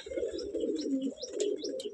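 Pigeons in a small breeding loft, a pigeon fancier's setup with paired birds raising young, coo in a steady, close, continuous murmur, with a few light chirps above.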